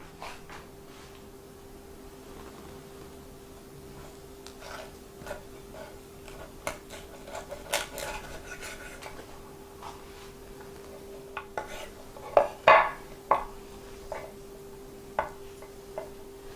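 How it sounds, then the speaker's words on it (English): A knife cuts a rack of lamb into two-bone chops, heard as sparse, quiet taps and knocks against a board, growing a little louder and more frequent toward the end. "What we're going to do is cut this up into chops, and we're going to use 2 bones per chop."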